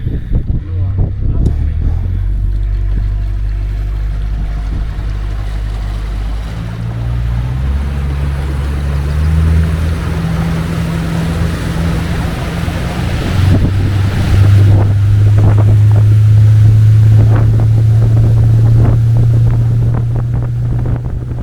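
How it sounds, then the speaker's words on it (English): A small boat with an oversized outboard engine runs along a canal in Guyana, a steady loud engine drone under heavy wind buffeting and rushing water, the pitch rising partway through. "this boat has a pretty big engine on the back for such a small boat"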